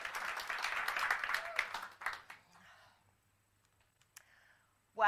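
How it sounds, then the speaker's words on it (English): Audience applause greets a top performer invited onto the stage, a burst of clapping for a couple of seconds that quickly thins and fades to near silence before a voice starts at the very end. "So a massive round of applause for Danielle Saunders."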